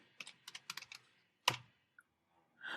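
Several quick, close keystrokes on a computer keyboard typing a command into the macOS terminal, in two short bursts followed by a single sharp key press and a brief final flurry, with no talking.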